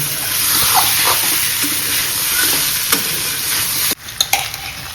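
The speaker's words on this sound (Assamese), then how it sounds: "ইয়াক অলপ ফ্ৰাই কৰিম পৰ্কটো।" Pork frying in a pan while being stirred, a loud, close, dense sizzle with scraping spatula strokes, cut off abruptly near the end, followed by a few isolated clanks, no talking.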